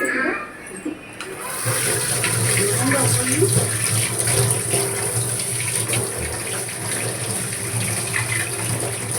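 Water runs steadily from a tap for washing, a constant hissing stream that starts after a brief moment, with voices faintly present around it.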